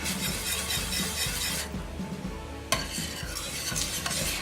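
A spoon stirs thickening cheese sauce for Southern baked macaroni and cheese, a steady scraping and sloshing close up, with a sharp clink near the middle and no talk.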